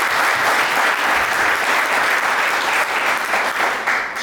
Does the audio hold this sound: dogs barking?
no